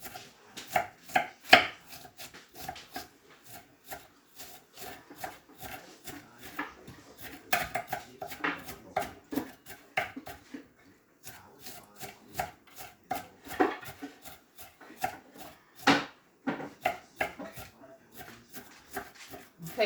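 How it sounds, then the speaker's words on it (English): Onions being chopped small with a knife on a cutting board while making a homemade turkey meatloaf: steady, close rhythmic knife taps, in fast bursts with brief pauses, clear and alone. "I'm just going to chop up my onions a little bit"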